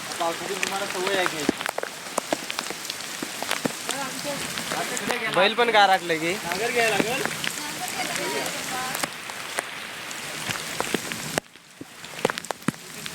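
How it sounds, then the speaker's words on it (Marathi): Heavy monsoon rain pours down on a village farm field, a dense, steady patter of drops on the ground and surfaces throughout, while people talk close by over it. "पाऊस खूप आहे"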